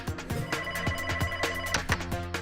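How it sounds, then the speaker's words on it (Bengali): A telephone rings repeatedly in quick, bright bell-like bursts, fairly close and continuous, with no voices. "ঠিক তখনই আমার ল্যান্ড ফোনটা বেজে উঠল।"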